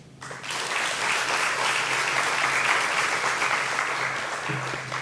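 A hall audience at a Slovenian volunteer awards ceremony breaks into sustained, dense applause that starts abruptly and stays steady for several seconds before easing slightly.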